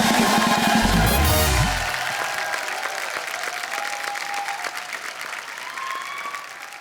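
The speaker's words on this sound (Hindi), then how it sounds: "अब मल्लिका के लिए जोरदार तालियां।" Loud studio audience applause welcoming actress Mallika Sherawat on The Kapil Sharma Show, a dense sustained roar of clapping over the tail of a music sting, continuing steadily before easing slightly at the end.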